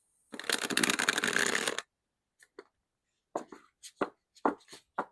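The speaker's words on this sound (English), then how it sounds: "If you like doing a ripple shuffle, let's see how that feels." A new, slightly stiff deck of Golden Masquerade tarot cards is ripple shuffled close up in one dense, crackling burst of riffling, followed by scattered taps and clicks as the cards are squared and handled.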